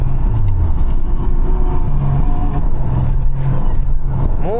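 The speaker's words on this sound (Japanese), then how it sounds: "モーターの音、" Motor running in a Nissan Skyline R34 that broke down on its delivery day, a loud, steady low engine drone with wavering hum tones throughout, no talking.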